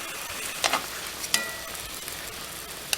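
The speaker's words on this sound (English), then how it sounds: "stir the pork tenderloins in this sauce just one time" Pork tenderloins sizzling in a pan of sauce as they are stirred, a steady close crackling fry with a few soft scrapes and clicks.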